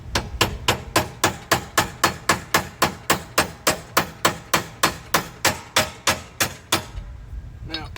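A hammer taps a gear down onto the steering shaft of a John Deere E130 lawn tractor in a rapid, even series of about twenty sharp metallic knocks, close up, then stops.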